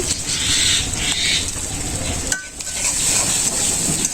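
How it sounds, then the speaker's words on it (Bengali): Onion frying with salt, turmeric and Dalda in a pan in a Bangladeshi village kitchen, a steady loud sizzle with stirring scrapes, briefly dropping out midway before resuming. "ভালো করে আমি কষে নেব"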